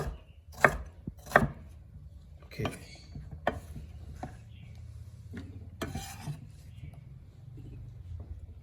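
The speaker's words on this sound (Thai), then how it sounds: "หั่นมาเป็นลูกเต๋าอย่างนี้นะครับ" A knife dices food into cubes on a cutting board in slow, separate strokes, a few louder knocks spaced out over quiet background noise.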